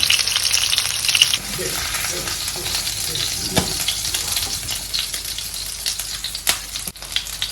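Red snapper fries in a pan with a steady, close hiss of sizzling oil, broken by a few sharp pops and scraping clinks of a utensil against the pan, and no voices.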